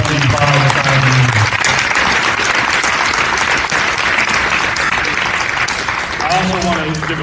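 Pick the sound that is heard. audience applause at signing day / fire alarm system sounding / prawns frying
audience applause at signing day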